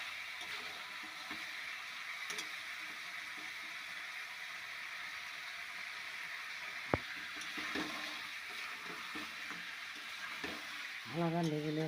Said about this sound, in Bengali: জল দেবো অল্প করে হালকা হালকা করে আর কষে নিচ্ছি ভালো করে